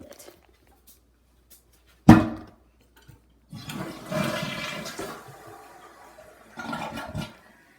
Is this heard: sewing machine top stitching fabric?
no